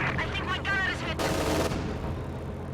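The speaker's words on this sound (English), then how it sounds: "B4 fires its first shot somewhere over here" A B4 howitzer fires in a real-time strategy battle, its heavy shot booming and trailing off under a caster's ongoing commentary.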